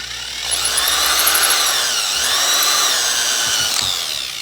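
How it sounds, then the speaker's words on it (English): An electric drill whirs steadily at high speed for a few seconds, spinning a cartridge brass trimmer and grinding against metal, then winds down. "And then you just turn the drill on."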